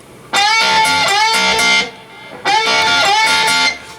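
An electric guitar plays a lick, with string bends, in two loud, bright bursts of quick notes separated by a short gap, with no voice over them.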